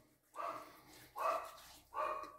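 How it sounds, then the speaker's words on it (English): Several dogs bark at home, three separate bursts spread across a couple of seconds, heard faintly from some distance away with no talk over them. "the noise of the barking dogs indicate my wife is home"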